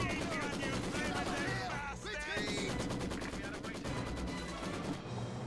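Maxim machine gun firing from inside a church in Company of Heroes 2, a dense, continuous rattle of automatic fire mixed with other battle gunfire and music, loud throughout with brief dips.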